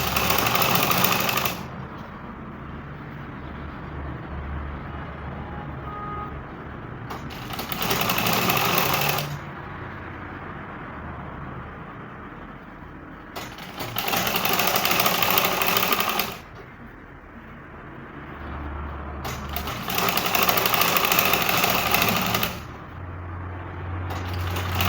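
A sewing machine top stitches the lining of a bustier gown in four separate runs of steady whirring, each a few seconds long, with quiet pauses between them.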